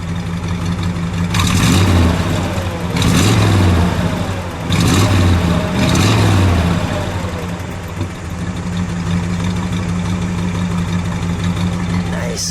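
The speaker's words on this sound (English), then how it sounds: "Give it a good muscle car rev." A 1965 Skylark Grand Sport muscle car engine is revved in four sharp, loud bursts over a steady idle, each swelling and falling back before the engine settles into a continuous rumble.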